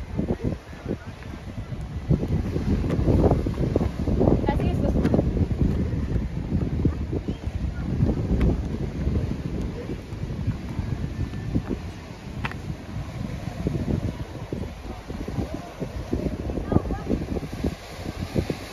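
Strong wind buffets the microphone on the rocky coast at Queen's Bath on Kauai, making a continuous loud rumble with gusty surges throughout.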